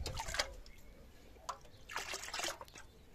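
Bostol liquid fertilizer poured from a one-litre jug, a close, wet trickling and splashing in two short bursts with a brief gap between them, no voices.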